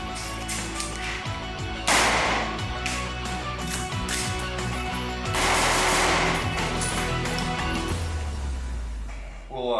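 A 5-inch AR15 pistol fired with its brace folded, several sharp loud shots cracking out at uneven intervals, each ringing briefly, with a voice talking in between.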